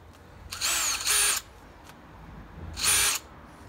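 A handheld power drill whirs in three short bursts while working on garden furniture being upcycled, each burst loud and close, with quiet pauses between.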